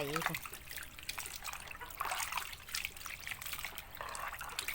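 Shellfish being washed by hand in water, with continuous splashing, trickling and sloshing close by at a moderate level throughout.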